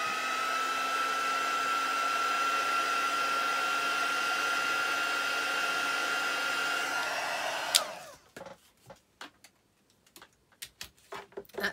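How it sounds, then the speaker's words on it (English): A heat gun dries a watercolour craft piece with a steady, whining electric blow for about eight seconds before it switches off, followed by a few close taps and handling clicks. "get my heat gun out, give it a little dry."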